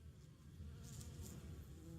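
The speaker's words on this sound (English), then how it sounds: "I hear those bees." Growthcraft bees in a modded video game give off a steady, faint buzzing hum, alone and without any talking.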